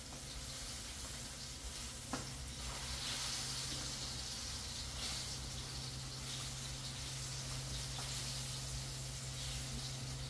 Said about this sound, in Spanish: Se me está quemando los plátanos